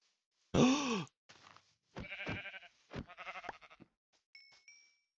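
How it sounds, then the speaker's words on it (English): Minecraft sheep bleats several times in short, separate cries, the first loud and the rest softer, with small game sound effects and a faint chime near the end. "That sheep is the start to an amazing world."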